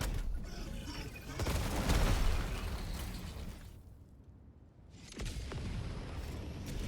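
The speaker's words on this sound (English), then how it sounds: "Throwing grenade!" A grenade blast booms in a Helldivers firefight, its explosion swelling loudly amid bursts of gunfire and mechanical clatter, then fading into a brief lull before the shooting resumes.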